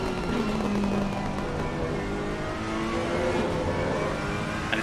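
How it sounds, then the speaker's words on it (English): A Ferrari 488 GT race car in Assetto Corsa Competizione, racing at Imola, screams loudly with rising revs and gear changes in a continuous close engine howl, with other cars' engines mixed in. "we listen to the sounds of that Ferrari 488"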